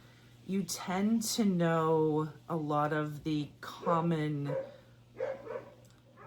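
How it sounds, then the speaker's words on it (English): A dog barking outside a house, a few sharp barks, one of them high-pitched, heard at a distance beneath someone talking close by, with a steady low hum running throughout. "but there's a dog barking outside."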